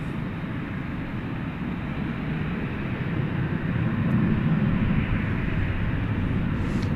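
An American Airlines Boeing 737-800 airliner arriving at DFW Airport at night from Jacksonville, heard as a steady, broad engine roar that swells slightly toward the middle and holds loud throughout.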